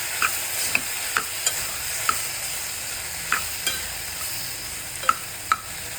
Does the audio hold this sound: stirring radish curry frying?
yes